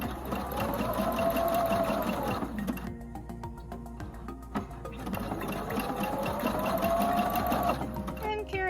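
A domestic sewing machine runs a backstitch in two long bursts of steady, close-up whirring separated by a brief pause as the fabric is turned, with faint background sound throughout.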